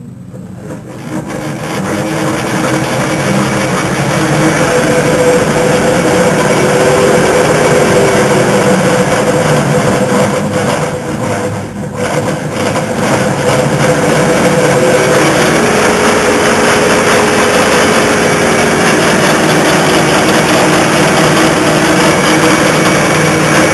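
A line-shaft-driven post drill converted with a down-feed motor runs steadily, a loud continuous mechanical hum and whir with belt and motor drone that holds level throughout, alone with no talk.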